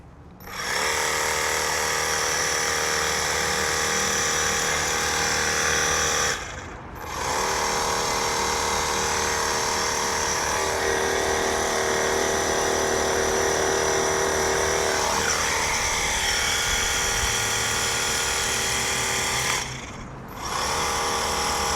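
A Greenworks 82V cordless hedge trimmer runs at full blade speed, giving a loud, steady electric whine with dense buzzing overtones. The motor briefly dips in two short pauses and then comes straight back up, with no talking.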